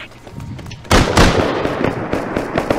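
Turret gunfire during a video game raid defense, a sudden burst of loud, rapid booming shots that continues densely for about two seconds, close and heavy.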